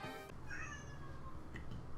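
A cat meows at floor level in a home kitchen, with several short rising cries following one another over a low steady background hum, fairly close to the microphone.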